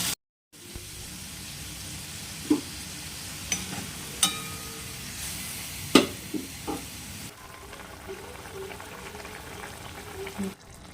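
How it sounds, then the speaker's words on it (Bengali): Mushrooms and potato pieces frying in a pan with onion, ginger, cumin, coriander and chilli give a steady soft sizzle, with a few sharper pops and stirring knocks rising above the continuous bubbling. "মাংস যেরকম মাংসের মতো করে রান্না করছি মাশরুমটা।"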